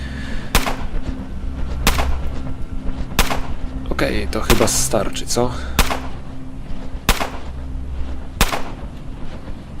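Sharp gunshots fire at a slow, even pace in the game Underrail, punctuated by short bursts of mechanical clatter, while a person speaks briefly in Polish in the middle.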